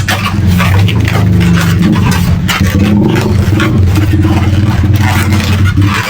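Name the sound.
motorcycles passing on a road at night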